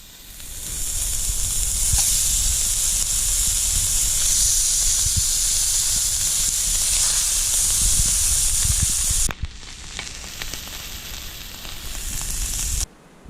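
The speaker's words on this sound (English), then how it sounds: "let's heat that up and give it a good sizzle" Venison back steak sizzling loudly in a hot frying pan, a steady close hiss of frying that holds for several seconds, then drops off abruptly and returns more quietly.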